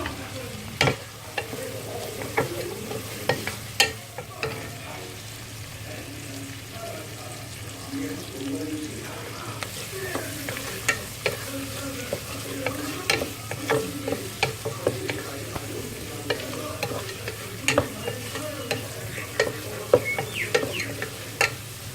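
Onions frying in a pan for Sri Lankan-style chicken curry, a steady soft sizzle with occasional stirring clicks and scrapes throughout, a voice speaking at times over it.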